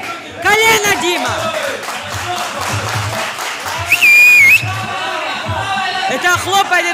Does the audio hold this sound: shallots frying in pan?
no